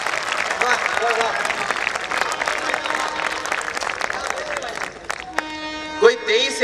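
Audience applause and cheers at a Hindi poetry recital, steady dense clapping from a large crowd under a voice, fading out near the end before a brief tonal sound.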